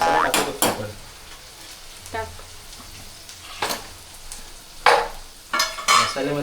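Onion and spices, including goda masala, fry in a pan with intermittent stirring, sharp scraping and clinking spoon strokes over a faint sizzle, close by.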